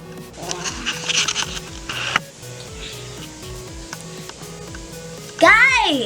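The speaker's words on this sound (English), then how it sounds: "Just gotta give it a good mix and it'll work probably." Homemade slime is stirred and mixed, giving a wet, squelchy, crackling rustle that runs continuously up close, with voices chattering faintly in the background and a burst of high-pitched squeals near the end.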